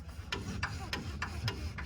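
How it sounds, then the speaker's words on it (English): Faint, regular scraping clicks repeat about every third of a second as a brake pad moves back and forth on a 1955 Chevy, a light metallic rub over low rumbling background noise. "The little noise you hear there, all that is just the brake pad moving back and forth."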